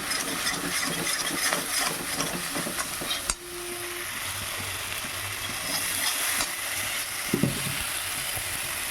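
A spice paste with turmeric fries in oil in a pan, giving off a continuous loud sizzle with stirring and scraping, one sharp clunk partway through and a couple of knocks near the end, with no voices.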